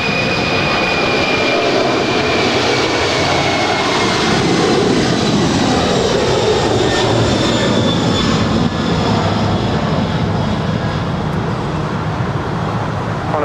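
A jet airliner at LAX roars loudly and continuously, its engine noise sweeping and shifting in pitch as it passes, with faint traffic beneath.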